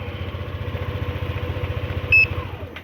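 A Yamaha Lexi 125 motorcycle's engine idles with a steady low, even putter after starting, joined briefly by a short electronic beep from an alarm system near the end.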